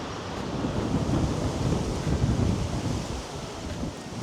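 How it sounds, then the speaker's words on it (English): Strong outdoor wind in Kutaisi, Georgia, in December roars as a steady, loud low rumble of buffeting against the microphone, swelling and easing slightly with no other sounds. "it is super windy out here"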